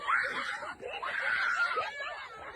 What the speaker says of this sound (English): She's screaming.